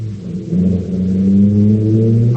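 In a 1950 radio crime drama, a car engine cranks and catches into a close, steady low idle rumble that holds for a couple of seconds.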